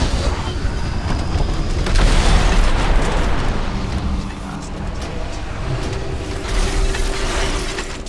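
Iron Reaver's barrage explosions in World of Warcraft make a dense, loud rumble of booms and mechanical clatter that swells and eases, while players keep talking over the battle.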